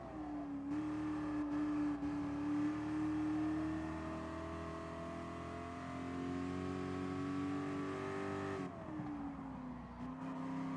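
Car engine in a racing video game holds a steady, sustained drone that shifts pitch as it revs, with a brief dip near the end before resuming, continuous and fairly loud throughout.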